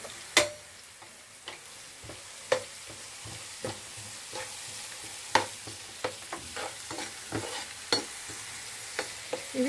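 Salted carrots frying in a pan for egg Maggi noodles, a continuous close sizzle broken by sharp, irregular spatula taps and scrapes against the pan, with no talking.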